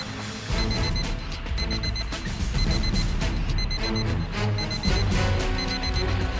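An alarm fitted to a suspected bomb in a stolen car beeps in quick, evenly repeating bursts, loud and close, sounding continuously with no speech.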